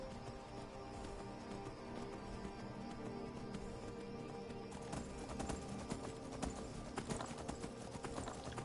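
Horse hooves galloping in the Skyrim video game with an immersive movement mod: rapid, rhythmic clip-clop that stays close and loud throughout, with occasional heavier hoof strikes and no talking.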